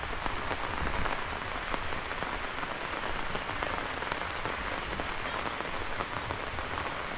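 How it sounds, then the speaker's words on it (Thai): Heavy rain pours steadily in a rural hillside village, a dense, even hiss of drops on surfaces lasting throughout without a break, no voices. "ฝนตกมืดอึบครึมเลยทุกคนเลย"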